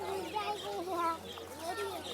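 Young cockerels cluck and crow in short, strained calls at a busy bird market, close and fairly loud, with people talking nearby.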